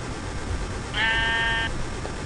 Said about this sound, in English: You creepy sheep. You creepy, creepy sheep.